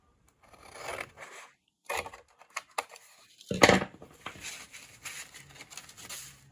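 Scissors cut across a sheet of paper for a junk journal, giving a few close, crisp snips and short scraping rustles in brief bursts separated by quiet gaps.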